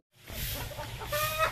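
Pet chickens cluck at a rural Philippine home, a few soft, fairly close clucks and short calls rising into a louder burst near the end, with no talking.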